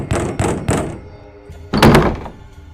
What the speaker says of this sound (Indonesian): Terdengar gedoran-gedoran pintu dari luar rumahnya.